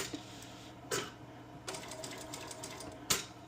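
A sewing machine stitches embroidery on a sukajan jacket in quiet, short mechanical runs, broken by brief pauses and a few sharper clunks.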